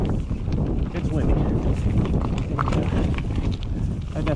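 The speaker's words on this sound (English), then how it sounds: "but it's windy" Steady wind gusts outdoors on a chilly day of about 41 degrees, a constant broad rush buffeting the microphone, with a voice talking over it.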